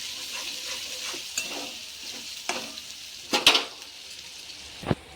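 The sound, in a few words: stirring spice masala frying in oil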